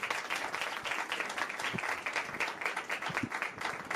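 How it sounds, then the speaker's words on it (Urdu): Enthusiastic applause rises from a church congregation during a Pastor's sermon, a dense, steady clapping that carries on throughout without breaks. "یسوع کے لیے زوردار تالیاں"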